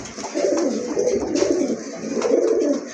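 A male pigeon offered for sale cooing close by, repeated throaty rolling coos in quick succession with little pause.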